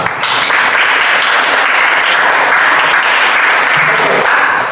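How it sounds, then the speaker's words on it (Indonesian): Dense applause fills a classroom, with many hands clapping loudly and continuously throughout. "tepuk tangan untuk pemirsa"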